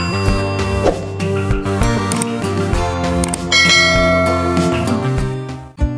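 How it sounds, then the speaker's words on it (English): A teacher's bell rings in a loud, continuous peal of overlapping struck tones that sustain and blend for several seconds without pause, alone with no talking. "Teacher's Bell."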